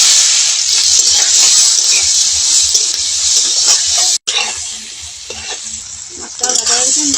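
Prawns rubbed with salt and turmeric hit hot oil in a wok and sizzle loudly and steadily up close, with a brief cutoff partway through before the frying continues more softly.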